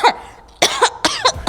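A young girl at home coughs repeatedly, three close, harsh bursts with short raspy tails separated by brief pauses, loud and near.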